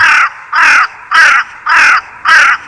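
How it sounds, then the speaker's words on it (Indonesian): A crow caws five times in an even rhythm, each call loud, harsh and close, with short silences between. "Waspadailah jika di sekitar rumah kalian mendengar suara dari burung gagak ini"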